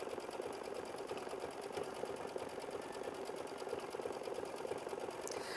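A sewing machine runs over an earlier line of stitching on a flower bouquet quilt block, sewing with monofilament thread. Its steady, quiet whir continues evenly throughout with no voices.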